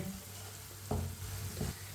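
Spices roast in a pan over low heat for white chana, a soft continuous sizzle with a low hum beneath, broken by two louder scraping stirs of a spoon about a second apart.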